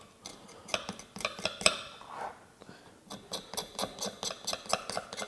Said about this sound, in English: now it's just a matter of using the knife against the bone and just scraping off